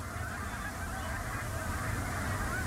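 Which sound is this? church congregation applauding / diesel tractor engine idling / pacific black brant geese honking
pacific black brant geese honking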